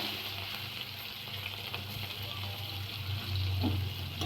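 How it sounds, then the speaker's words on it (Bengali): Onions fry in oil with cumin seeds and a bay leaf, giving a steady, quiet close sizzle with light stirring that swells a little toward the end. "পেঁয়াজটা একটু ভেজে নেবো"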